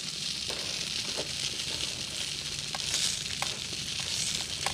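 Beer brats cook in a pan, giving a steady hissing sizzle that carries throughout with a few soft pops and scrapes, and no one talks.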